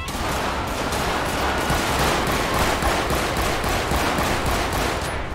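Rapid continuous gunfire in the GTA V police game mod LSPDFR, a dense rattling fusillade of overlapping shots at steady high volume for several seconds, with no speech over it.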